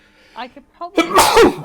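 A person in a group tabletop role-playing session sneezes once, loudly and close, right after a short spoken remark.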